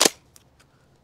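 A Nerf Rival Takedown shotgun-style blaster fires a single loud, sharp pop over a chronograph, followed by a couple of faint clicks and rattles.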